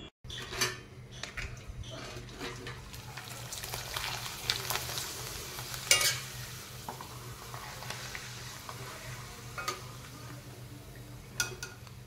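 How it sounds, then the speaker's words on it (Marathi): Ragi (finger millet) papad deep-frying in hot oil, a steady broadband sizzle running throughout with occasional sharper crackles and light utensil clinks, close and moderately loud. "चला तर मग आपण पापड तळून पाहूयात।"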